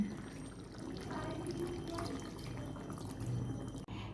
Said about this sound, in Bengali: এবার আমি যেটুকু ঝোল দেব আন্দাজ মতো দিয়ে দিচ্ছি।